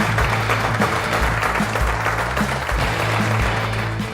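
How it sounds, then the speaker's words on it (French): A television cooking-show audience applauds loudly to welcome a two-Michelin-star chef, with sustained, dense clapping throughout over low background music and no voices. "Je vais vous demander d'accueillir et d'applaudir bien fort le chef doublement étoilé, Jean-Yves Schillinger."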